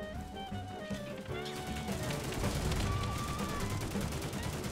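Rapid bursts of video game gunfire from the plastic army-men shooter The Mean Greens: Plastic Warfare crackle continuously, dense and loud, with overlapping shots and effects throughout.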